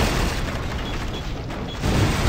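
A rumbling, broadband explosion roar from the video game Demolition, Inc. fills the clip, steady and noisy with a deep low-end swell near the end, no voices.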